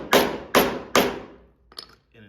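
Three sharp hammer taps on the metal bolts of a sliding barn door trolley, evenly spaced and close, each ringing briefly, followed by a few faint softer knocks.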